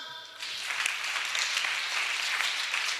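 After a brief pause, a church congregation breaks into sustained applause, a dense, even wash of clapping that holds steady for several seconds.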